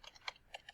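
Computer keyboard typing, a quick run of light, close key clicks.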